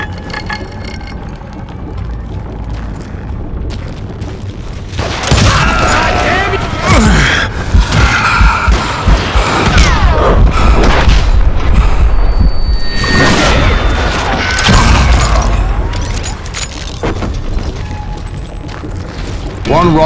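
Explosions boom in Call of Juarez: Gunslinger amid a Wild West gunfight, with heavy low blasts and crashing debris building loudly through the middle, along with gunshots and a voice talking.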